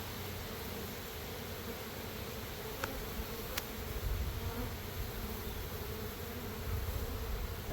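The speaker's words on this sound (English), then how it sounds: "Lots of bees, no queen." Honey bees buzz around a hive frame in a nuc box, a soft, steady hum with a few sharp clicks, fairly faint and without talk.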